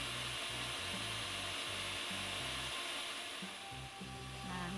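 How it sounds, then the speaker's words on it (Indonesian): An electric mixer beats cake batter for a mini ombre roll cake, a steady close motor whine with a rhythmic pulsing hum running throughout. "Kemudian dikocok atau di mixer."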